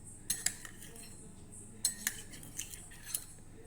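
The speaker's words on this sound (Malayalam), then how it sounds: "ഇനി ഒരു സ്പൂൺ വെച്ചിട്ട് നന്നായി ഇളക്കുക" A spoon stirs a hair oil mixture in a bowl, clinking against the sides in a few scattered sharp taps, close and faint.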